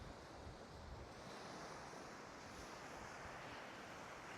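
Waves wash onto a beach at Escanaba, Michigan, mixed with steady wind buffeting the microphone, forming a faint, even rushing roar with no clear breaks.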